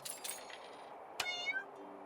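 Cat meowing in the Inn Tycoon video game: a few short, close meows, with one brighter call near the end over a quiet game background.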